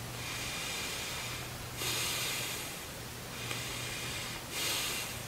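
Slow, deep breaths during a lung-capacity exercise with the arms raised on each inhale and lowered on each exhale: long airy hisses that swell and fade in a steady rhythm, close to the microphone, with no speech.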